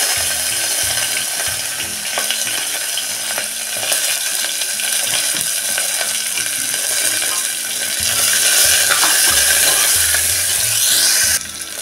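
Chilli, onion and curry leaves hit hot ghee tempering already holding sesame seeds and ajwain for a bajra khichdi, giving a loud, steady sizzle with scraping and clattering spoon stirring throughout, and no talk.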